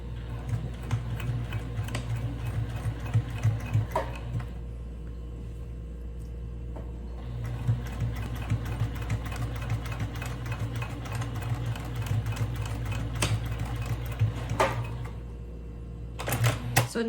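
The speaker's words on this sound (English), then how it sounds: "Now I'm going to sew the other side." A sewing machine stitches the side of a tote bag in a steady, close, rhythmic run that continues almost the whole time. A few brief pauses and clicks break it up, and there is no talking.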